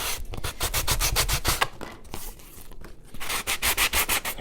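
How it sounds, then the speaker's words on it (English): Edges of a junk journal folder being sanded by hand, with loud, rapid back-and-forth rasping strokes in quick rhythmic bursts and a short pause partway through, close to the mic and with no talking. "Maybe if I put the mic up here, the sanding won't be so loud for you guys."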